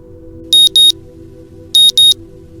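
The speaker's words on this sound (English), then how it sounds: "I jumped to the sound of my alarm going off." A phone alarm goes off in two pairs of bright, identical electronic beeps separated by a short pause, loud and close over a low steady hum, with no voices.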